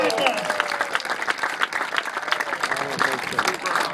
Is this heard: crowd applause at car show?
yes